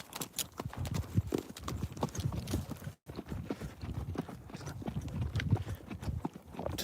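Pony hooves clip-clop steadily across desert ground during a ranch ride, a close, rhythmic walking beat with faint background noise and no talk.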